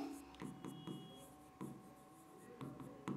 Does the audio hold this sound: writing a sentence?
yes